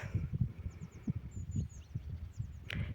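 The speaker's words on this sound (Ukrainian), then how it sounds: "пташки співають, пташки вже чують весну" Several short, high spring bird chirps and whistles sound faintly in the distance over a low rumbling, rustling background in a burned forest in Lviv region, with no voices.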